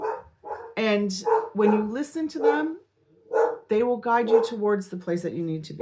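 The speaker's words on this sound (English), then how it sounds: "Sorry about my dog." A pet dog barks in the background of an indoor room, the barks mixed in with someone talking steadily over them.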